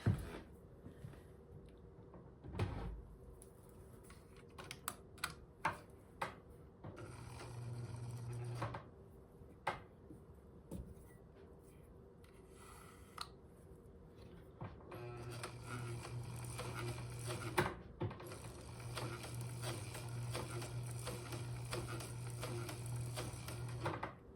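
A freshly oiled White model 967 sewing machine running in bursts, with a steady mechanical whir and rapid needle clatter, interrupted by clicks and pauses, close and moderately quiet.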